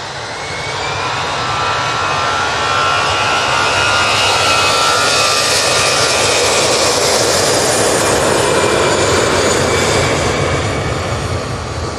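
An Aer Lingus jet departs Manchester Airport for Dublin, its loud engine roar building over the first seconds into a powerful sustained rumble with a whining tone, close and strong throughout.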